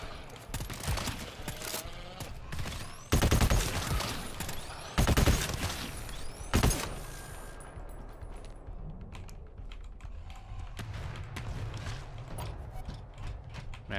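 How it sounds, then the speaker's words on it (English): Machine pistol fire in a shooter game crackles in rapid bursts, several loud clattering volleys separated by quieter mechanical clicks and handling noises, fairly close and dry. "Man, this machine pistol still feels amazing, bro."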